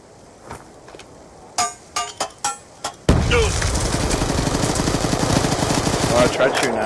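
Gunfire in a Call of Duty Search and Destroy match starts with a few sharp single shots and short bursts, then breaks into continuous loud, rapid automatic fire up close.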